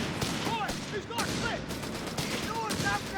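Vickers and .30 cal machine guns firing in a Company of Heroes 3 battle, heard as dense, rapid overlapping bursts that run continuously amid busy battlefield noise.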